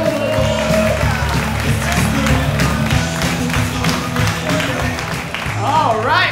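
A comedy club audience applauding and cheering as comedian Kristi McHugh takes the stage, dense clapping under music and a voice speaking over it, loud and close throughout.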